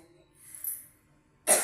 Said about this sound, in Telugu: సారీ, జలుబు చేసి దగ్గొస్తుంది